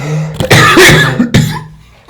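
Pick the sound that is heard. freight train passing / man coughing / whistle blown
man coughing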